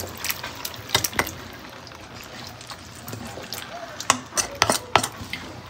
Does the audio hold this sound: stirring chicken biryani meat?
yes